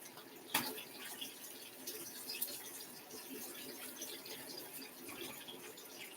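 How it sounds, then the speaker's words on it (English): Bottled alkaline water pours steadily into a bowl of coconut festival batter, a soft continuous splashing trickle with a few small spikes, fairly quiet and close. "So I'm going to add some alkaline water to the mix."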